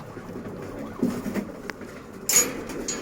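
Domestic pigeons kept in pairs give soft, low cooing near the microphone, a brief coo followed by a few quieter murmurs, with no talk.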